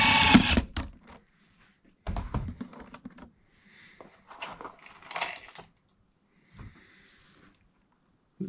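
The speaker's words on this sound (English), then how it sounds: "take these self-tapping screws and screw it into the light" Self-tapping screws being driven into a light fixture by a power driver, short bursts of whirring and clicking separated by quiet pauses, close and moderately loud.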